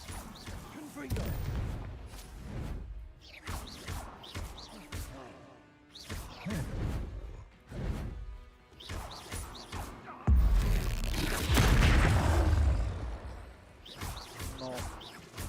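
Confringo fire spells in Hogwarts Legacy burst in a run of loud, sharp blasts and crashes during combat, with a stronger explosive surge near the end, while a player keeps talking over the action.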